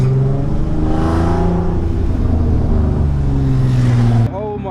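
A VW Golf R32 MK5 Stage 2 with a loud aftermarket exhaust accelerating hard nearby, the engine note climbing and holding through a sustained roar before cutting off abruptly into quieter rev harmonics.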